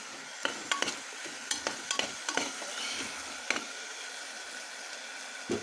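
A spoon scrapes and clinks against a pressure cooker in quick irregular strokes while stirring potato and pea curry, over a soft sizzling background.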